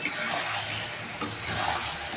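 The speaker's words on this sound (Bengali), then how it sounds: "সবগুলো মশলার সাথে আলু ঝিঙে একসাথে কষিয়ে নেব আরও 5 মিনিট" Ridge gourd and potatoes stir-fried together with spices, a dense steady sizzle filling the whole stretch, with a short scrape of stirring partway through, close and without talk.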